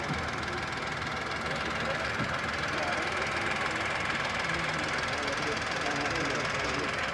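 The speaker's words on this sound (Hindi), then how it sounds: "इंजन नॉइज़ बहुत ज़्यादा है इसमें" A Tata Punch three-cylinder car engine idles with a steady, dense hum and vibration that runs unbroken from start to finish.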